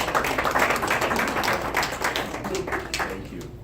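Scattered audience clapping welcomes a speaker at a community association event, a few seconds of uneven claps with voices mixed in underneath.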